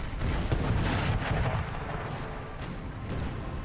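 Heavy cannon fire from a Napoleonic-era battle in Napoleon: Total War, a dense, continuous rumble of overlapping booms and blasts that stays loud for the whole stretch, with no clear gaps between shots.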